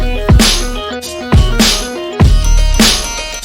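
Drums chopped from a sample and stretched, dry with no effects, play three heavy kick-and-snare hits roughly a second apart under a sustained tonal bed, loud and close, with no voice.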